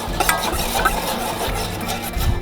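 Garlic and onions cooking in melted butter and oil in a pan while being stirred, a close scraping and stirring with a light sizzle underneath.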